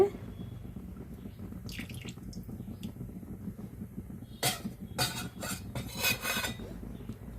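Cooking oil poured into a pan while making a mango and raw banana curry, heard as a few short, splashy bursts over quiet kitchen background.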